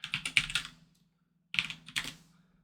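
Computer keyboard typing in two quick bursts of clacking keystrokes, close and fairly loud, separated by a short pause, on a keyboard with a broken G key.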